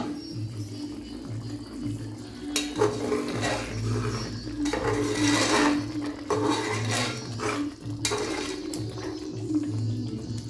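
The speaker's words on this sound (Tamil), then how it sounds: "கொஞ்சம் திறந்து பார்த்து கிளறி விட்டுறலாம்" Chicken biryani stirred in a pot, with scraping spoon-on-metal clatter and clinks in bursts over a soft steady background hum, no voices.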